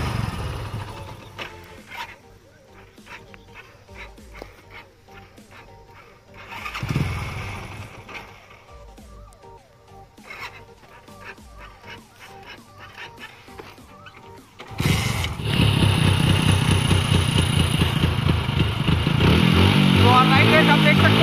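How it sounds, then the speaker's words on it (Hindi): Motorcycle engine fuelled with cow dung biogas fires up about two-thirds of the way through and keeps running loud and close, after a quieter stretch with people talking. "गाइस आप देख सकते हो बाइक ऑन हो गई है यार, ये हमारे गैस से।"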